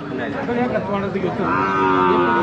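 Loud, drawn-out moos from bulls at the Belhe bullock market, close by, with a second lowing call joining, amid faint background chatter of a busy crowd.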